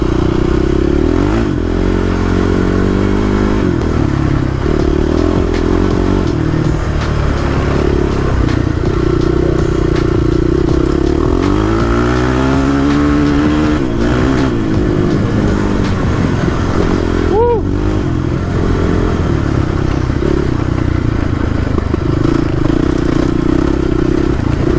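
A Honda TRX450r ATV roars at full throttle for a long sustained stretch, the engine loud and close with rising and falling revs and gear shifts, plus some clattering and rattling from the ride.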